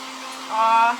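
Hair dryer blowing on a craft frame, a steady close whir that rises in strength halfway through.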